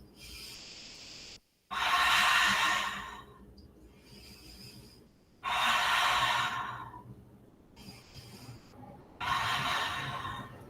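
Slow, deep yoga breaths during a standing side stretch: three long, airy exhalations, each lasting a couple of seconds with quieter inhales between, close and unhurried, with no talking.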